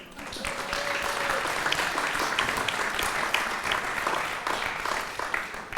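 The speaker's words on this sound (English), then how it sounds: "Give yourselves a round of applause." An audience at a county commission candidates' forum bursts into sustained applause, dense clapping from many hands that rises quickly and holds steady for several seconds, with a brief whistle-like tone early on.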